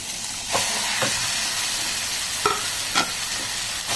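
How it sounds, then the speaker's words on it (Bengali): Ground chicken paste and potato samosa filling fries in a pan with a dense, loud sizzle, punctuated by a few sharp scraping stirs, close up and without speech. "এইভাবে ঠিক নেড়ে চেড়ে করে কষে নিতে হবে পুরো চিকেনটাকে।"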